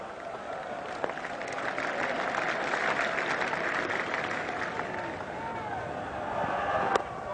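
A cricket crowd at an England versus Australia Test match cheering and applauding a catch, a sustained roar of clapping and shouting that holds steady throughout, with commentary voices mixed in.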